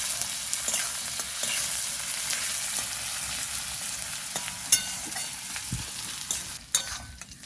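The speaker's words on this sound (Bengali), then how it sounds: "পেঁয়াজটাকে নাড়াচাড়া করে কিছুক্ষণ ভেজে নেব।" Chopped onions fry in oil in a pan with a continuous sizzle, punctuated by repeated spatula scrapes and taps against the pan as they are stirred.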